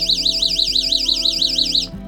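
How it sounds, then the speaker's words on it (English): A loud, piercing electronic alarm from an emergency multi-tool with flashlight warbles rapidly up and down, close by, then cuts off abruptly near the end. "so now for the alarm, let's see how loud this is going to be."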